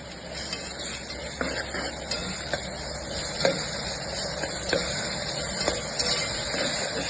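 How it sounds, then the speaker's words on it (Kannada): Ground masala fries in oil for a mushroom pulao, giving a continuous soft hiss with faint scattered stirring ticks, fairly quiet and even throughout. "ರುಬ್ಬಿರುವ ಮಸಾಲೆಯನ್ನು ಹಾಕಿ ಸ್ವಲ್ಪ ಹಸಿ ವಾಸನೆ ಹೋಗುವವರೆಗೂ ಎಣ್ಣೆಯಲ್ಲೇ ಫ್ರೈ ಮಾಡಿ"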